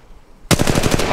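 Rapid automatic gunfire in Apex Legends Mobile bursts in loud and close after a half-second of quiet, a steady rattling stream of shots that fills the rest of the moment.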